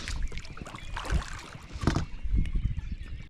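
Oars pulling a small fishing boat quietly across a carp lake, used instead of the electric motor, giving soft splashing, swishing strokes at uneven intervals, close to the microphone.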